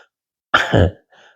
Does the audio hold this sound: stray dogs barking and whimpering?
no